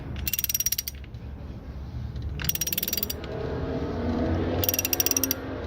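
An H903 oil filter wrench ratchets against the oil filter of a 2017 Mercedes-Benz GLE, giving three close bursts of rapid metallic clicking, each lasting under a second, separated by pauses of muffled handling noise.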